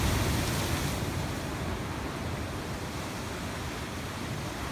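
Steady broadband wash of ocean waves at the harbor of Hania in Crete, a continuous moderate rush without distinct breaks and no voices.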